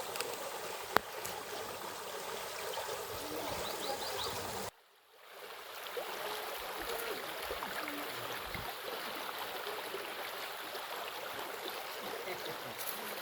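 A river stream flows steadily, a broad continuous rushing of water close by that drops out briefly partway through before resuming.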